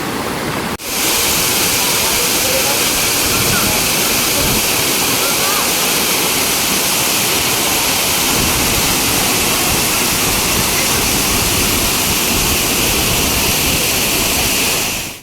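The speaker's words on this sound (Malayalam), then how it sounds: "നമ്മൾ വെള്ളച്ചാട്ടമൊക്കെ കണ്ടു കേട്ടോ" A 30-foot-high waterfall roars loudly and continuously at close range, a dense unbroken rush of falling water that fills the whole stretch after a brief quieter opening.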